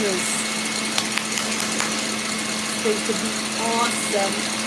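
An electric mixer whirs steadily nearby, whisking chocolate mousse, while a person talks over it.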